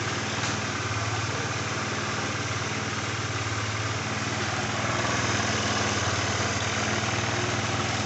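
A Honda Scoopy scooter converted from fuel injection to a carburetor idles with a steady, fast, close-up putter that stays even throughout, with no voices.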